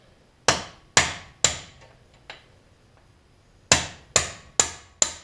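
A hammer strikes a punch against a swingarm bolt on a Suzuki LT250R ATV: sharp metallic taps, three in a quick run, a faint lighter tick, then a pause and four more evenly spaced hits, close and clear.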